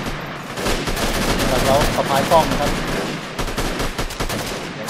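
Sustained bursts of rapid automatic gunfire crackle through a firefight in the video game Freeman: Guerrilla Warfare, loud and continuous, with someone speaking briefly over the shots.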